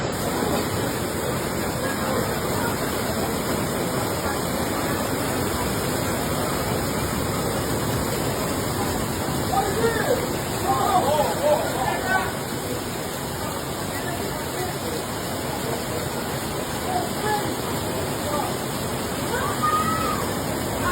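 Floodwater from torrential rain rushes through city streets in Marseille, a loud, steady roaring wash that persists throughout with slight surges, and a voice is faintly audible beneath it.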